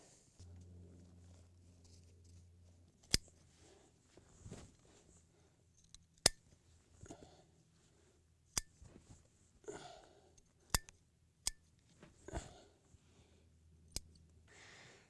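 Pruning shears give a final trim to a collected yamadori tree: several sharp, faint snips at irregular intervals over a quiet background with soft handling rustles.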